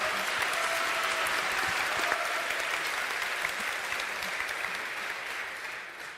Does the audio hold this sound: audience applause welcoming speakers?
yes